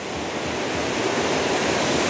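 Water tumbling over rocks at a waterfall, a dense, constant, loud rushing roar that stays even throughout the short stretch, with no voices.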